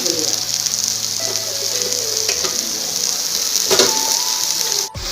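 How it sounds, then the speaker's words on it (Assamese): Sliced potatoes frying in oil in a pan, a steady bright sizzle with occasional stirring scrapes and a brief clack near the end, close and alone. "আৰু আলুখিনি মই আগতে অলপ ভাজি ল'ম"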